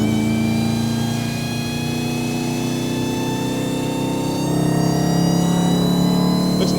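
A 1,000 hp Dodge Hellcat Charger fitted with the Ghoul package idles and revs, a loud, deep, steady exhaust drone that swells as the revs climb toward the end, with no talking.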